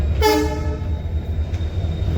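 A train horn blasts briefly up close as the train leaves a station, then a steady low rumble of the train continues on its own.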